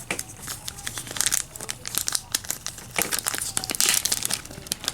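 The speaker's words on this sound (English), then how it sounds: "So I am going to get to the reissue sticker sheet." Plastic sticker sheet from a Walmart reissue G1 Soundwave Transformers toy being unwrapped, giving continuous close, loud crinkling and crackling with sharp tearing snaps throughout.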